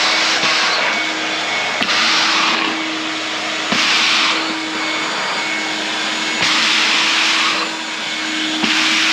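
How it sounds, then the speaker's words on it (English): Two vacuum cleaners running at once while cleaning up debris on a farm, a loud, steady roaring whine with a gently rising and falling pitch and occasional thumps of hoses knocking, and no pauses. "And so I'm thinking within an hour or so, with 2 vacuums running, Sammy and I can get this whole thing done."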